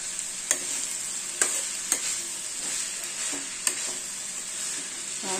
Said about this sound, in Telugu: సాల్ట్ వేసి ఇది ఫ్రై అవ్వనివ్వాలి.